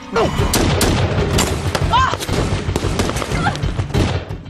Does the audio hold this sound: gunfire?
yes